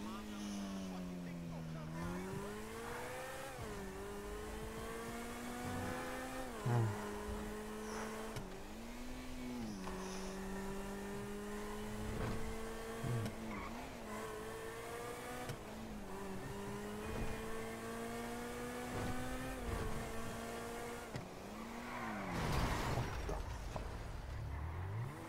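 Engine of a car driven in GTA 5 Online, a steady drone with pitch that rises and dips as it shifts and revs through the whole stretch, with a brief crash-like burst near the end and a voice talking over it.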